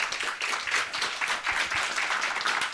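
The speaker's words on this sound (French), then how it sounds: "On peut l'applaudir bien fort s'il vous plaît." A conference audience on climate change claps steadily for a guest, a dense, sustained round of applause filling the hall.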